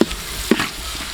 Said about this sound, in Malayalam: അടുത്തതായി ഇനി നമ്മൾ സവാള ഇടാൻ പോവാണ്